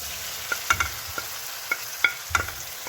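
Prepared squid goes into a pan of softened frying tomatoes for a squid curry, with a steady sizzle and a series of sharp spatula clinks and scrapes against the pan, close up and without speech.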